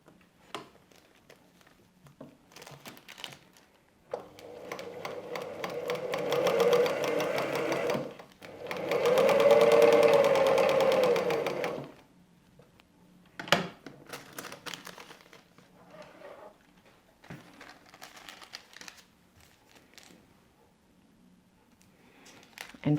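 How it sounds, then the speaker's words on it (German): A sewing machine stitches fabric along a perforated line for paper-pieced patchwork. Two close bursts of steady whirring run for several seconds each, with paper rustling and small handling sounds between and after them, and no voice. "Und nähen nun ganz genau über unsere perforierte Linie."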